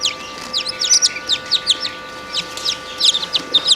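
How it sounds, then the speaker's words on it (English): Newly hatched silkie chicks cheep in rapid, high, repeated chirps, close and clear over a low steady hum. "these little silkies just hatched within the last day or so"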